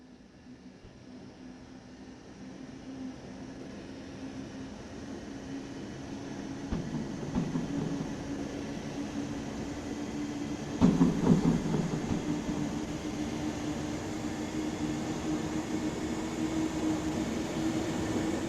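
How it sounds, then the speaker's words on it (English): An ÖBB 1020 electric locomotive, first built in 1940, hauling a train on the Mittenwaldbahn route in Train Sim World 5: a steady low rail rumble and hum that builds gradually, with a louder rattling surge partway through. "This train is hauled by an ÖBB 1020, first built in 1940."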